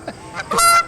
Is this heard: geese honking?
yes